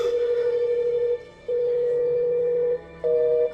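Phone call disconnected tone, a steady electronic beep sounding in repeated long pulses with short gaps between them, clear and alone, the last pulse slightly higher in pitch.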